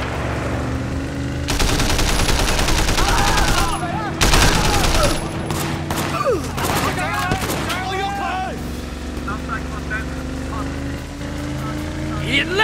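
Sustained automatic gunfire bursts from the video game Sleeping Dogs during a New Year's Eve car chase, loud and dense with intermittent pauses, mixed with engine and boat-like rumble and shouted dialogue.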